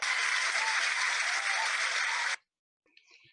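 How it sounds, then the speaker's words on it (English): An audience at the Ahaolelo Alii ceremony gives a round of applause, steady and even for a couple of seconds, then cuts off abruptly, leaving only faint scattered sounds. "Let's give them another round of applause."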